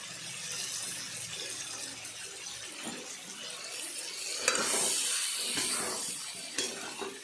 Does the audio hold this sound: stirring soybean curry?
yes